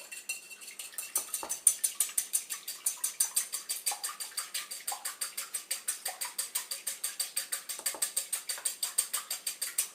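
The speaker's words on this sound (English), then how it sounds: "Alright, let's mix this up real well." Salt and half a teaspoon of black pepper being mixed in a bowl: a steady run of quick, rhythmic clinks and scrapes of utensil against dish, close and fairly loud, with no talking.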